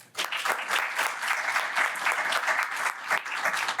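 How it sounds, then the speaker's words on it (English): Sustained applause from the audience at a law review antitrust symposium, a full, even patter of many clapping hands filling the room at steady loudness for the whole stretch. "I think we owe the students a round of applause."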